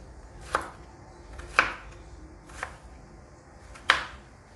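Four sharp knife chops through potatoes on a board, evenly spaced about a second apart, close and clear with no talking.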